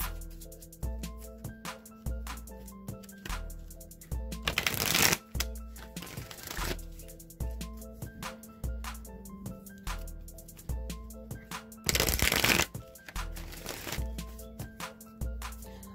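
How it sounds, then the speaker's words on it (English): Two quick riffle shuffles of a card deck, a few seconds apart, over soft, steady background music. "let me just give these a few shuffles"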